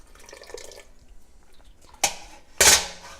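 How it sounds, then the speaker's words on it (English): Wort drips and splashes from a squeezed brew bag of grain over a strainer in a small-batch Gigawort brewing setup: a quiet start, then two sharp wet splatters close by. "squeeze it, get a little bit of that extra wort out"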